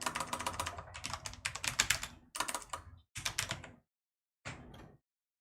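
Someone types on a new computer keyboard in quick, clattering bursts of keystrokes. The bursts are close and crisp, separated by short pauses, and the last one is a brief flurry.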